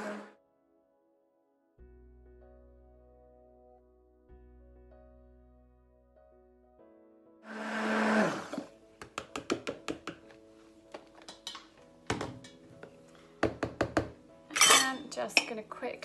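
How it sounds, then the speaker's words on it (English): An electric hand blender whirs steadily for a few seconds blending gravy, followed by sharp clinks and taps of a spoon against a pot. "actually I find it quicker and easier with a hand blender"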